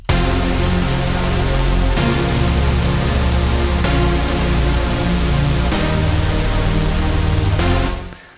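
Dense, bright sustained supersaw synth chords in FL Studio changing every couple of seconds, a wide buzzy wall with no filters or muffling, loud and continuous before cutting off at the end.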